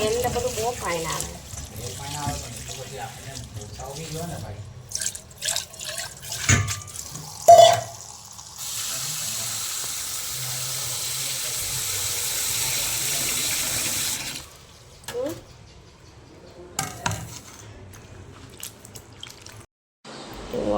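Tap water runs over green chilies and ginger being washed in a kitchen sink, splashing in uneven bursts with drips and clatter between, then a long steady pour midway before it trails off.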